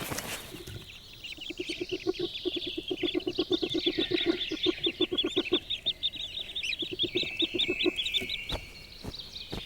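A mother duck and her ducklings call in the wild, a fast run of rhythmic quacking notes under a layer of high, thin peeping that carries on throughout.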